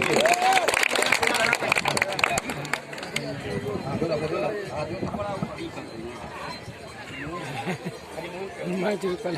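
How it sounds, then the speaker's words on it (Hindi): Audience applause welcomes a guest at a village final match ceremony, a burst of scattered clapping early on that fades into crowd chatter and a voice speaking over a loudspeaker. "इसके लिए जोरदार ताली से स्वागत कीजिए।"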